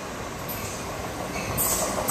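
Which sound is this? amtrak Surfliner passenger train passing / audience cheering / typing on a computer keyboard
amtrak Surfliner passenger train passing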